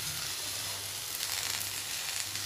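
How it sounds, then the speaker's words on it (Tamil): Okra (vendakkai) frying in a pan on a low flame, giving a steady, close, continuous sizzle with no voices. "சீக்கிரம் வதங்கிடும் சிம்மிலே வச்சுக்கிறோம் நல்லா வேக நல்லா ஃப்ரை ஆகட்டும்"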